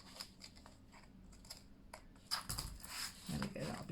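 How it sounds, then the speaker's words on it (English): Scissors snip by hand through the corner of a paper envelope, making a few soft crisp clicks and a short papery crunch, close and quiet, with someone talking over them. "Pains me to cut a corner by hand when I love my corner rounder up punch so much."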